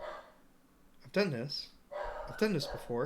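Pet dogs barking in a home in two short bursts of sharp, close barks, with a person talking over them.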